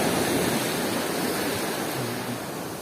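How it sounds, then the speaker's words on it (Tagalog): Big ocean waves at a beach in Bicol, a steady broad roar of surf with no distinct breaks, loud and continuous throughout with no voices. "Kita mo laki ng alon."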